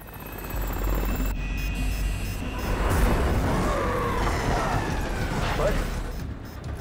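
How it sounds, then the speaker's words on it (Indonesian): A helicopter with a damaged engine struggles over a mountain peak, its loud, steady rotor and engine drone filling the scene while a voice talks over it. "helikopter itu tetap tidak bisa melewati puncak gunung"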